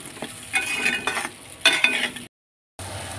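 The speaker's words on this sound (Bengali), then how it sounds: "বেগুনগুলো তেলে আমি হালকা করে ভেজে নেব।" Eggplant pieces lightly frying in hot oil and being stirred, bursts of crackling sizzle and scraping in uneven pulses, close and fairly loud, broken by a brief silent gap before the frying resumes.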